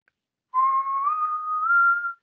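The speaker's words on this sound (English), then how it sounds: "Slur is when there is no gap between the two notes that you whistle." A whistler slurs smoothly from one note up to a slightly higher one with no break between them, a single clear connected tone lasting under two seconds, alone and close.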